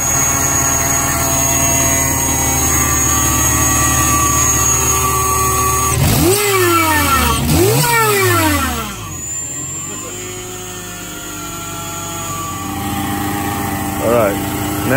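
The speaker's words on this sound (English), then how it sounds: "Had a few boost leaks, that's what all the squealing was." A 1993 Honda del Sol with a B18C1 engine and AMR500 supercharger, leaking boost, running loud and steady with a high whine, then two rising and falling revs, settling back to a sustained drone.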